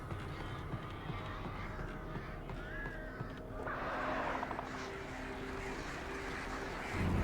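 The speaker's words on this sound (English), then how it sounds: "More birds." Crows caw in the Alan Wake video game, a brief wavering call rising over a steady, busy ambient background.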